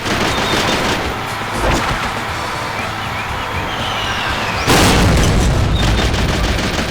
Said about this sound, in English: Each one is equipped with an infinite ammo machine gun that will eat away your enemies